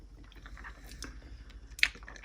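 Soft, close chewing of strawberry banana ice cream, quiet wet squishy bites in a steady rhythm with one sharper crunchy click near the end.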